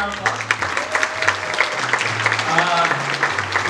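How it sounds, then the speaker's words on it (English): Applause from an audience at a university impact summit pitch event, a moderate patter of clapping with distinct individual claps, accompanied by a low tonal hum or music and some voices underneath. "Dominic Varakali, can we give them a round of applause?"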